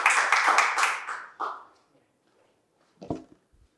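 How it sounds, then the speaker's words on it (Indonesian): A stand-up comedy audience claps for a comedian, a short burst of dense applause that fades within a couple of seconds, followed by a brief tap or clap. "Beri tepuk tangan untuk Adit MKM."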